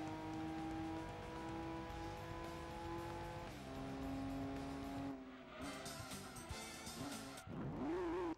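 A car engine fitted with a muffler in the racing video game Gran Turismo 2 holds a steady droning tone, then shifts pitch and revs with brief tire-squeal bursts near the end.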